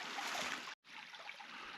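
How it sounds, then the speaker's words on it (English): Creek water in a wooded wilderness creek bottom rushes steadily as a broad, constant wash, close and even, broken by one brief cut to silence partway through. "Really pretty creek."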